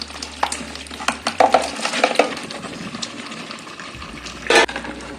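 Five kilograms of chicken leg and square pieces being tipped into a large pot of biryani masala and stirred, with wet scraping and sloshing pulses, a few metallic clinks and a sizzling bed underneath, no one speaking.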